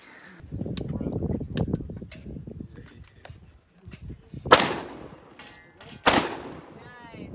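Two sharp shotgun blasts ring out at the Philmont shooting range, one midway and a second near the end, each cracking loud against a backdrop of steady conversation from people nearby.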